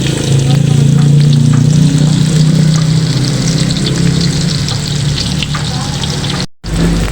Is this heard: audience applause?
no